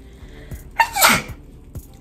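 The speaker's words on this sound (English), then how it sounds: "I'm about to sneeze." A single sharp human sneeze, loud and close, with a brief intake before the burst, set against quiet indoor background.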